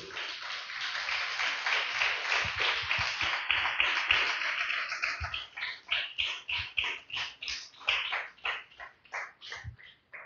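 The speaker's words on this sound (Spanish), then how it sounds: "Denle un fuerte aplauso" A church congregation gives a loud round of applause in worship, dense continuous clapping that thins into scattered, rhythmic individual claps before fading.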